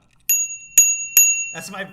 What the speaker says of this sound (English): I got a bicycle bell for my birthday